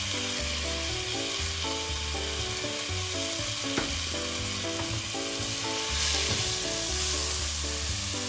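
Chopped tomato sautés with fenugreek and fennel seeds in a pan for a Tamil crab curry, giving a steady, close sizzle under looping background music, with no talking.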